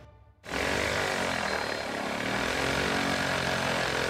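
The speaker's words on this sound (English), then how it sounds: "More than 20 planes taking off from Tampa Executive Airport Saturday morning." Small propeller planes take off from Tampa Executive Airport, a loud, steady engine roar that swells in after a brief quiet start and holds strong throughout.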